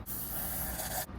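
A short, close burst of cleaner sprayed onto Porsche Cayenne valves, a single steady hiss lasting about a second before cutting off.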